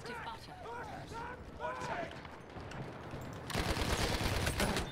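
Bursts of rapid gunfire in the video game Battlefield V, a dense fusillade that hits hardest near the end, mixed with game sounds and a person talking over it.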